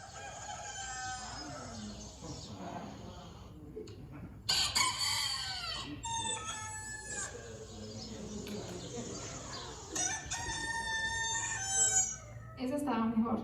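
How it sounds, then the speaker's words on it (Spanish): A rooster crows several times, loud and near, over a steady bed of chirping insects, with other fowl clucking between calls. "cantó el gallo"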